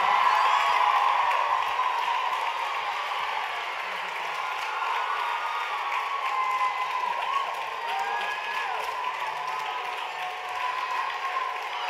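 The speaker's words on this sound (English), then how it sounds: "Give him a nice round of applause." A large audience at a dance awards gala applauds and cheers loudly and continuously, with dense clapping, scattered whoops and crowd noise over the whole stretch.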